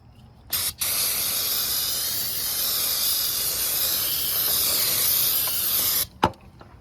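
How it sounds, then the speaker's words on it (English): An aerosol can of brake cleaner hisses in one long continuous spray lasting several seconds, loud and close, bracketed by brief clicks before and after. "spray that down with some brake cleaner, just so we don't have any dirt buildup"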